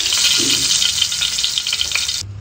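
Dried milkfish (daing na bangus) frying in hot oil, giving a steady loud sizzle with dense crackling spatter that runs on continuously, then cuts off abruptly near the end.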